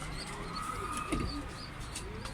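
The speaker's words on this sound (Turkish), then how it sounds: "Kuş geri mi geldi lan?" Domestic pigeons coo softly inside a coop, with a brief low coo rising near the middle over a steady background hiss.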